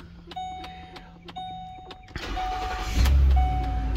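After the key is turned, a car that earlier would not start cranks briefly and then catches, settling into a loud, steady engine run close by, with no talking.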